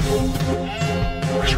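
A sheep in the VR game Giants bleats loudly and close, a wavering nasal call repeated in a couple of short bursts.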